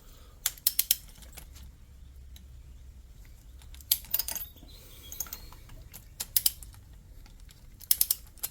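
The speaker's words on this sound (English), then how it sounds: "I'm going to go ahead and torque these to 11 foot-pounds." Torque wrench tightening engine bolts on a 2020 Chevy Express 3500 van with a 6.0-litre engine, sharp close ratcheting clicks in short clusters with quiet pauses between.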